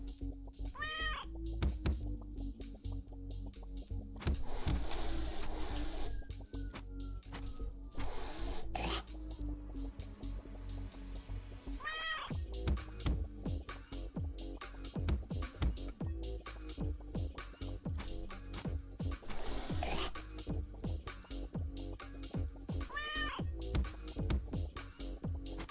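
A cat meows repeatedly in the video game Turnip Boy Commits Tax Evasion, with harmonic cries rising over a busy bed of game sound effects and thumps.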